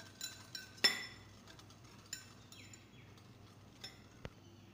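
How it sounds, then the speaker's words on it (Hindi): A utensil clinks and taps against a bowl while flour is stirred little by little into eggless chocolate cake batter of milk and sugar, giving scattered light knocks over quiet background with no talking. "अब इसमें हम थोड़ा थोड़ा ये मैदा डाल के मिक्स करेंगे और एकदम स्मूथ बैटर तैयार कर लेंगे।"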